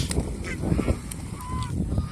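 Two male geese fighting give rough, strained honks and a drawn-out call amid scuffling background noise, heard at moderate volume.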